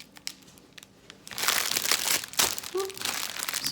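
A plastic bag of diamond painting drills is worked open with loud, close crinkling and rustling that starts softly and then swells into a sustained, busy crackle.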